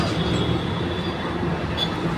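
A train runs along a railway line beside a highway near Chembur Link Road and Tilak Nagar Road, giving a steady, loud rumble of rolling wagons that holds through the moment with no talk over it.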